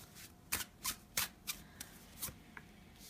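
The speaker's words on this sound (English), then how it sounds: "I'm just gonna lay out a few cards for the week" Tarot cards are laid out one by one, each placement giving a brief papery flick or slap. Several crisp hits come at an uneven pace over a quiet room hum, with no talking.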